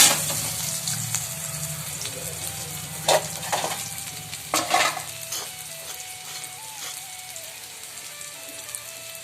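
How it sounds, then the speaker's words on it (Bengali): Onions frying in a kadai for a dried fish curry, a steady close sizzle with scraping stirs and clinks of a spatula throughout, no talking. "কড়াইতে পেঁয়াজ দিয়ে দিয়েছি"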